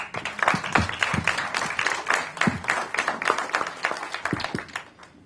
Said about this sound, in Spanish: Por favor, un aplauso, por favor.